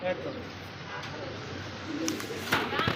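Indian Mumbai pigeons coo softly in a seller's loft, their low murmuring calls mixed with someone talking nearby and a few brief knocks near the end.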